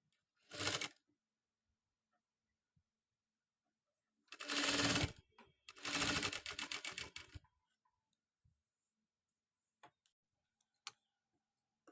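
A sewing machine stitches a designer long gown in three separate bursts, a short one and then two longer runs of close, rapid stitching, with faint clicks in the quiet between.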